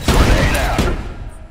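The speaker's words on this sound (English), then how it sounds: "Throwing a grenade." A grenade thrown and bursting in the shooter game Trepang2, a loud heavy boom near the start with a second blast close behind, then a rumbling decay.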